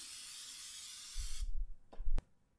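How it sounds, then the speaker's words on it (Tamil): Coconut oil sprayed over shaped cowpea kebabs: a steady close hiss lasting over a second, then a couple of short soft knocks and a brief sharp tap before quiet. "இந்த ரெடி பண்ணி வச்ச கபாப் மேலே கொஞ்சம் தேங்காய் எண்ணெயை தெளிச்சுக்கோங்க"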